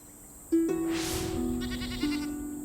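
Goats and sheep bleat loudly and close by, one long wavering cry followed by another after a short pause.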